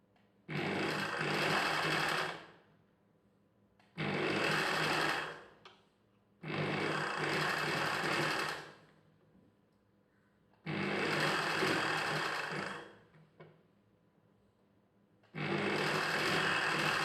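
A sewing machine stitching silk cloth along a folded neck edge, running in five loud bursts of about two seconds each, separated by short quiet pauses, close and clear.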